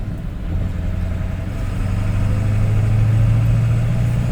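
Ford F-Super Duty OBS Powerstroke diesel truck accelerating through its gears, a loud, close, heavy low engine drone that climbs steadily in pitch and volume toward the end.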